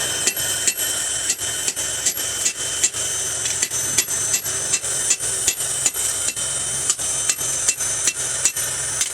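A hammer strikes steel again and again while the edge of a meat cleaver is forged, in a steady, even rhythm of sharp, loud, close blows that continues throughout with no talk.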